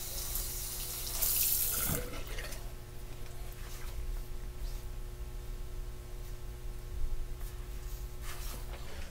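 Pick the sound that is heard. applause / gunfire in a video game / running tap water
running tap water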